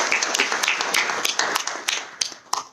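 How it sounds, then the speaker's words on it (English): Sparse applause at an online webinar, a handful of distinct individual claps in a loose irregular rhythm, fairly close and clear, fading slightly toward the end. "A big round of applause."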